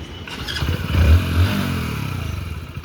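A black Hero Splendor motorcycle being ridden, its engine a close, steady low throb that swells briefly as it picks up speed, then settles into an even putter with no talking.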